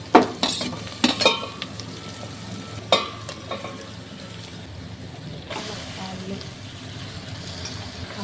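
A spoon clatters against a pan as vegetables, tomato, garlic, cumin and curry leaves are stirred in hot oil for sambar, with sharp scrapes early on, then a steady sizzle beneath a speaking voice.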